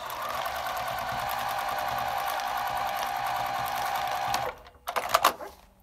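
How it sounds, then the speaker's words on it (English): A sewing machine stitches a foundation paper-pieced quilt seam from the corner with a back stitch: a close, steady motor whir with rapid needle chatter runs for several seconds, then stops and a few sharp clicks and rattles follow. "So you're going to start at the corner, back stitch,"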